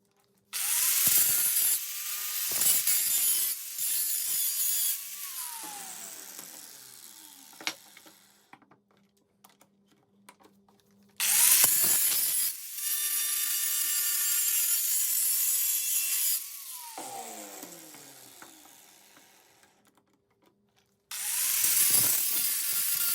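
A flap disc on an angle grinder grinds rust off old rusty butcher's cleaver blades, whining loudly in two long bursts with pitch drops as the disc loads up, then spinning down between passes.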